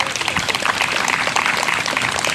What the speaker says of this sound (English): Let's give a round of applause to each and every one of you for coming out today